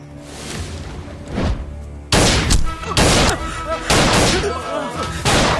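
A rapid volley of loud gunshots bursts out over a dramatic score, several sharp cracks and booms overlapping close by, with a voice briefly heard.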